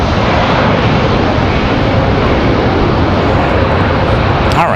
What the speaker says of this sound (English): Touchdown for the Delta.